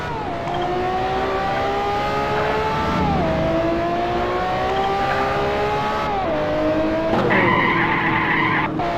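A modded Lamborghini Aventador in GTA roars with a steady high engine tone that climbs and drops through gear shifts, overlaid by continuous tire skidding and squeal, loud and close with no talk.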